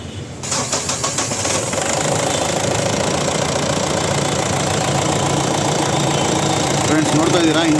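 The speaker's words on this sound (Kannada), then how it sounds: "ಇಂಜಿನ್ ಇವಾಗ ಸ್ಟಾರ್ಟ್ ಮಾಡಿ ಕೂಡ ತೋರಿಸ್ತೀನಿ ಏನು ಕಂಡೀಷನಲ್ಲಿದೆ ಅಂತ" A 2014 Mahindra Bolero diesel engine cranks over and catches, then settles into a steady, loud, close-up idle with a knocking diesel clatter that runs unbroken to the end.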